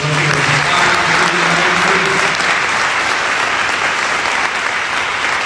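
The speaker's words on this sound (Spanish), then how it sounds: "Den un fuerte aplauso al Señor" A church congregation gives the Lord a loud round of applause, dense steady clapping filling the whole stretch close and full, with a few voices and a held tone sounding faintly beneath it early on.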